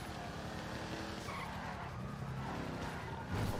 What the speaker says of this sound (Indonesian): Ini gue dikejar satu mobil polisi ya.